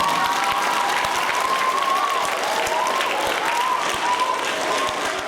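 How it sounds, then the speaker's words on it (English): An audience at a school tribute concert claps steadily, a dense, even round of applause that carries on throughout at moderate loudness. "You can give them a round of applause."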